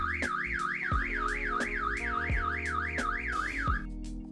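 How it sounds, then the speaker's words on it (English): Downloaded car alarm sound, a loud electronic siren warbling rapidly up and down in a steady repeating cycle, with regular low pulses underneath, running continuously alone before cutting off near the end. "I'm using a car alarm sound that I've downloaded from the internet"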